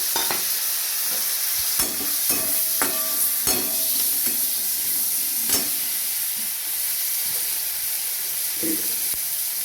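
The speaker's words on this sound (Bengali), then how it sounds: "মশলা বলতে এখানে সাদা সর্ষে কালো সর্ষে কাঁচা লঙ্কা আর পোস্ত এটা সব মিশিয়ে দেবো" Spoon stirring a masala of white and black mustard, green chili and poppy seed in a frying pan for a fish curry, with steady sizzling hiss and a series of distinct scraping clinks spread through, no talk.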